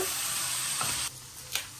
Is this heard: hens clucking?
no